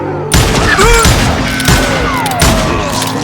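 Call of Juarez: Gunslinger shootout with loud, close gunshots in a quick series of heavy reports and echoing booms, several shots spaced about a second apart.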